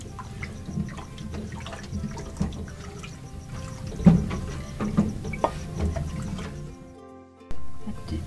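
A spoon swirls through a pot as flour slurry is poured into beef nihari, giving a sloshing, liquid stir with soft clinks and drips, close and steady, ending in a brief pause before a louder splash.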